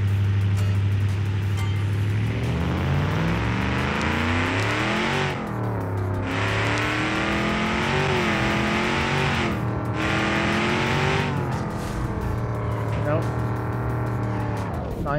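A drag car in the BeamNG.drive racing game revs hard, its engine pitch climbing through repeated gear changes with brief cuts between shifts, loud and continuous for the whole run with some tire squeal.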